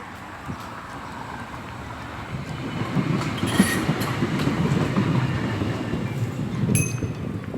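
A passing train rumbles and clatters, growing louder and closer over several seconds, with faint high wheel squeals near the middle and end.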